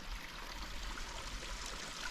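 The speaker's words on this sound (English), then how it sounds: "Turns out I've got my own little fresh water source right here, right by my lovely little hut." A small freshwater stream trickling beside a hut at an old mining building produces a steady, soft, hissing babble of running water with no pauses.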